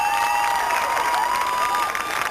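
Audience applause and cheering from a crowd at a 1989 hypnotist stage show, filling the room steadily as a performer introduced as Michael Jackson takes the stage, with a sustained tone ringing above the noise.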